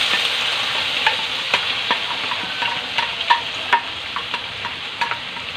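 Chicken sizzles steadily in hot oil as garlic, onion and tomato go in, with a bright, continuous fry punctuated by several sharp clicks and scrapes of stirring throughout.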